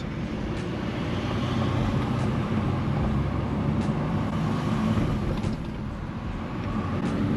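A car fitted with a Valvetronic exhaust idles and runs with its valves closed in comfort mode, giving a steady, muted low rumble without burbles that stays even throughout, with no talking.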